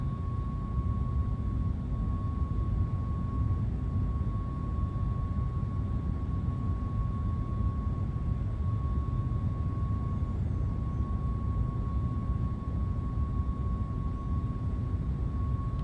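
Airplane hitting turbulence in Microsoft Flight Simulator: a steady, loud broadband engine and wind roar with a constant high whine, unbroken for the whole stretch, no voices over it.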